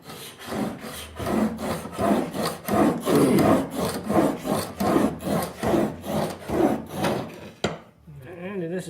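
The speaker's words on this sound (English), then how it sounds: "this is just getting a new bevel on it" A steel chisel is ground to a new bevel by hand on a classic sharpening tool, a rough rasping scrape repeating in steady strokes about twice a second, close and fairly loud, ending abruptly.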